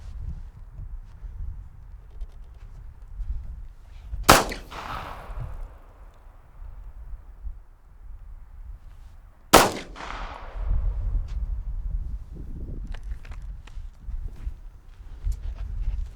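Two sharp, loud pistol shots ring out several seconds apart during shooting practice, each with a brief echoing tail, over low outdoor rumble and faint shuffling.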